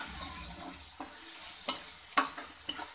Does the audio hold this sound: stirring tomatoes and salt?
yes